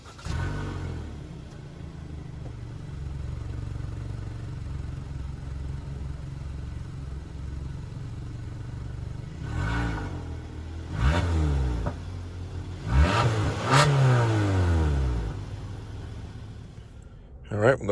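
The naturally aspirated 2.5-liter four-cylinder of a 2023 Kia Sportage X-Pro Prestige AWD idles steadily, then revs up and pulls away in several rising sweeps, under a voice talking.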